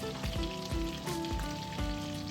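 Salted fish sizzles steadily in hot oil in a home kitchen, a constant dense crackle with rhythmic scraping or stirring strokes about every half second.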